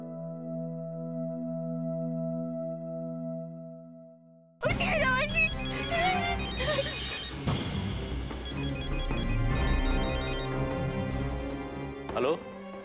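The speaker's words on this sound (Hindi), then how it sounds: "रोहन को फोन करके बताना पड़ेगा अभी।" A telephone rings at a steady pitch for several seconds before the call connects. Then several voices talk loudly and emotionally over dramatic television background music.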